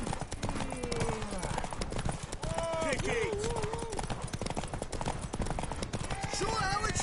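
Horse hooves clip-clop steadily through a Witcher 3 race, a continuous rhythmic trot under loud shouting and cheering voices, with occasional whinny-like tones.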